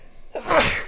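One sharp human sneeze, close and fairly loud, opening with a short breathy intake and then bursting out in a single explosive gust.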